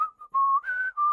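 A person whistles a short, wavering tune, imitating a character in a tabletop fantasy adventure feigning innocence; three clear, close notes shift up and down over about a second.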